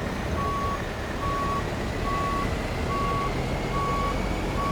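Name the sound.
truck reversing beeps while backing a trailer, American Truck Simulator video game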